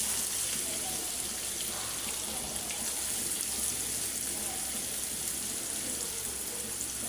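Onions sizzle in hot oil for egg bhuna, a steady, close hiss of frying that holds even throughout, with faint voice in the background.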